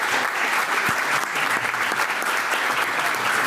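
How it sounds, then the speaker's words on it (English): Steady, dense applause from a school board meeting audience honoring elementary teachers, filling the whole stretch at even loudness with no pause. "How about a round of applause for all of them,"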